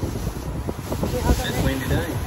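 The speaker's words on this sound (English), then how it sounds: "Sorry about all the wind. It's a windy day." Strong wind blows outdoors on a gusty day, buffeting the microphone with a constant low, loud rumble and roar throughout.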